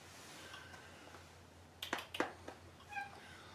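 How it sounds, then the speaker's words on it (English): A Maine Coon tomcat lets out a couple of short meows and chirps, fairly faint over a quiet room hum, with no voices. "Yeah, he's Big Tom. Maine Coon."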